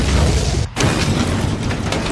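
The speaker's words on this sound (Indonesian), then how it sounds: "Ledakan demi ledakan menghancurkan tank-tank sekutu" Heavy, continuous booming blasts and roaring rumble fill the clip, broken by a split-second gap, like a dense battle scene of explosions destroying tanks in a World War II film.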